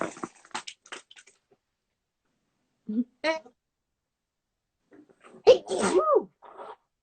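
A single sharp sneeze near the end, preceded by a few quiet breaths and small sounds, otherwise mostly silent.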